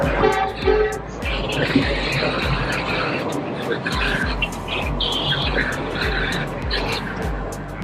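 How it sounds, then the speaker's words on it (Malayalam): A train arriving at Ba Na Hills near Da Nang, Vietnam, gives a steady rhythm of low, regular thumps that carry on throughout, with birds chirping overhead and voices in the background. "ആ ഒരു ട്രെയിൻ വരുന്നു, അവിടെ നിന്ന് ഇങ്ങോട്ടൊരു ട്രെയിൻ വരുന്നുണ്ട്"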